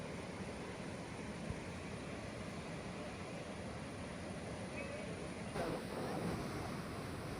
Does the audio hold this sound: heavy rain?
yes